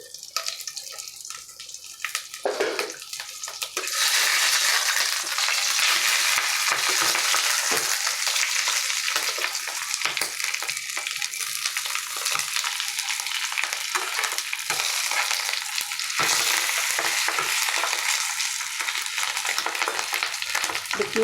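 Fish roe paturi sizzles loudly in a frying pan, a steady, near hiss of hot oil that swells after a few seconds and holds without talk.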